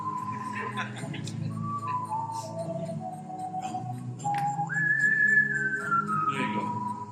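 Recorded whistling of the TSB Bank advert tune, played on an iPad at a community event. Clear held and sliding notes over a background of room noise and murmuring voices.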